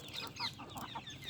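Backyard chickens clucking in soft, irregular bursts at moderate distance over a steady background hiss.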